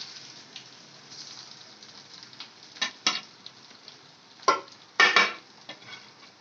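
Ground bombil (Bombay duck) chutney mixture frying in the oil left from frying the fish, a soft steady sizzle with a few sharper crackling bursts near the end, close and without talk.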